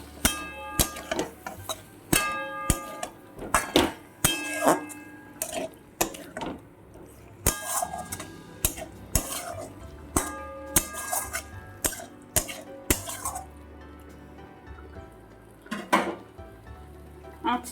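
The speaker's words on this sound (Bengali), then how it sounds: "আলুগুলো মশলার সঙ্গে একটু নাড়িয়ে চাড়িয়ে নেব।" Boiled potatoes being stirred with spices in a pan while cooking egg curry: a run of sharp metallic clinks and scrapes of a spatula against the pan, irregular and close, with quiet gaps between strokes.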